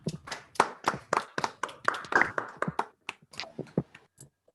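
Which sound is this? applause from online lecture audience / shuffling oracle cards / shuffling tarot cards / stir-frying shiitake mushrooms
applause from online lecture audience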